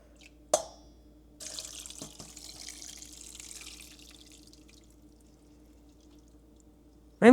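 Elderberry syrup is strained and poured into a pan, giving a brief knock and then a soft trickling, splashing stream for a few seconds before it fades, followed by a sharp clatter at the end.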